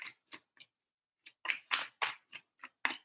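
Tarot cards are shuffled in short, crisp riffling bursts, three quick ones, a pause, then a denser run of about seven flicks, close and clear with no talk.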